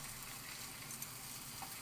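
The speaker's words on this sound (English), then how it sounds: "put that on the lowest setting now, the eggs, they'll just sizzle away" Eggs sizzle steadily in a frying pan on the lowest heat setting, a constant soft crackling hiss with no talking.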